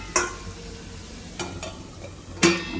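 A spoon scrapes and stirs aloo gobi sabzi in a pan, with a few sharp clinks against the metal over a faint sizzle, close and brief.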